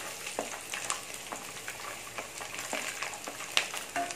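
Garlic and onions sautéing in a pan give a continuous close sizzle, with brief scrapes and clicks from stirring and no voices.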